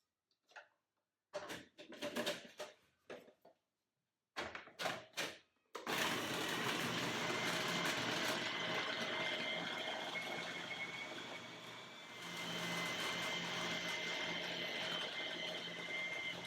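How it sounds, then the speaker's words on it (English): A blender blitzes frozen banana, dates, cashew flour and vanilla powder into ice cream, starting with a few short bursts and then running as a loud, steady whir that dips briefly before surging again. "now all I need to do is the blender dance to get the blitz ice cream"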